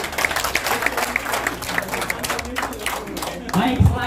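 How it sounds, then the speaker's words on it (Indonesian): Applause from children in an Indonesian classroom game: a brief burst of clapping alongside voices, ending with a louder thump. "tepuk tangan semuanya"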